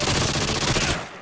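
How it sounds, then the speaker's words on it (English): Rapid burst of video game gunfire, loud and close, firing continuously for about a second before cutting off. "I just shot you when I was about to see you."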